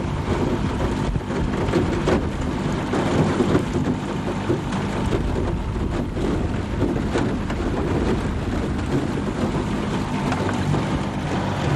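Strong wind blows outdoors at Deer Creek, Ohio, during a duck hunt, a loud continuous buffeting roar battering the microphone throughout with no break.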